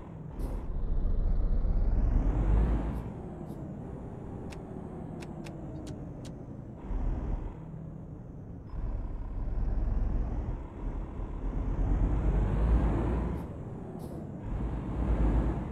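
A Marcopolo G7 bus with an 8-speed gearbox, running in a truck simulator game, rumbles with a loud low engine drone that rises and falls through gear changes, joined by brief hissing air-brake releases, with no talking.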